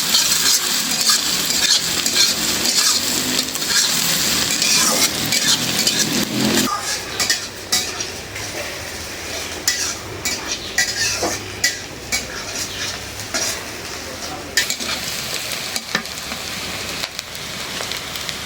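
Kalmi greens, water spinach, are stir-fried in a pan, with a steady loud sizzle and repeated scraping and clinking of a utensil against the metal, the sizzle easing after the greens go in.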